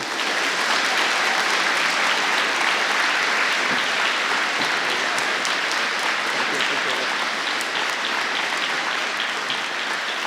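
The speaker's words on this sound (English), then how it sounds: "give yourself another huge round of applause for the amazing work that you do" A large crowd at a Relay For Life kickoff rally gives a sustained, loud round of applause, dense clapping holding evenly from start to finish.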